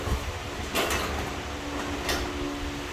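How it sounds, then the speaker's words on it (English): A garage door lifts with a rough metallic rumble and two louder scraping surges, over steady background noise. "Just lift up the door a little bit."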